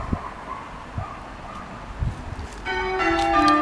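Church bells at St Mary's in Arnold begin chiming for a wedding, a clear ringing that rises in the last second after faint wind and distant thuds outdoors, with no talk.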